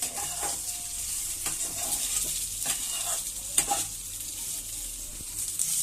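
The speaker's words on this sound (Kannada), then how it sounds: "ಇವಾಗ ಸ್ವಲ್ಪ ಫ್ರೈ ಮಾಡ್ಕೋಬೇಕು. ನೋಡಿ ಫ್ರೆಂಡ್ಸ್, ಈರುಳ್ಳಿ ಸ್ವಲ್ಪ ರೋಸ್ಟ್ ಆಗಬೇಕು" Onions fry in a pan with a soft, continuous sizzle while a spoon stirs them, giving scattered scraping clicks. The sound is fairly quiet and close, with no talking.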